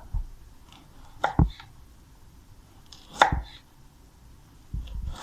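A knife cuts a carrot into leaf shapes for vegetable carving, with a few distinct close chops and scrapes separated by quiet pauses.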